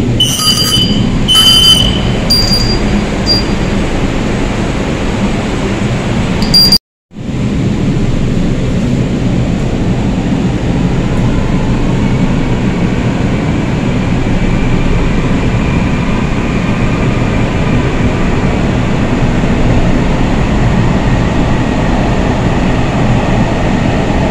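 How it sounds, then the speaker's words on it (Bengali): A Kolkata Orange Line metro train runs between Beleghata and Kavi Subhash on a rainy day, a loud continuous rumble of wheels and motors heard from inside the car, with a short chime at the start and a brief dropout partway through. "যেটি অরেঞ্জ লাইন, কবি সুভাষ থেকে বেলেঘাটা পর্যন্ত এই মেট্রো রেল আপাতত চলছে"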